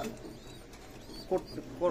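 A pet female pigeon in a home loft, in heat, gives a few short soft coos, faint and close, with quiet background noise between them.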